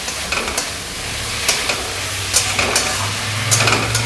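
Fried vegetables added to a masala in a pan on a gas stove while cooking chhyachra with katla fish head, steady sizzling and frying with repeated scraping stirs of a spatula.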